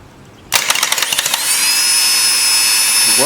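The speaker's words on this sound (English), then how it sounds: "So the starter works" Starter motor on a 2016 Ford F-150 with a 3.5 V6 that has been removed from the truck, cranking in a rapid rhythmic whir that then settles into a steady loud spin.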